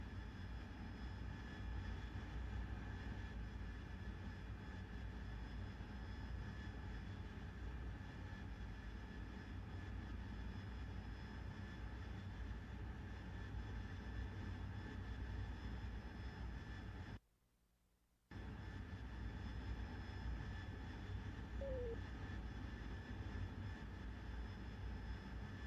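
A jet aircraft flying in the DCS World flight simulator gives a steady, even engine roar with a hissing, droning texture, cutting out for about a second partway through before resuming, with no talk.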